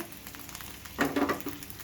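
Pieces of rohu fish dropped into a hot pan of potato curry, a burst of sizzling frying that flares up midway over a faint background hiss.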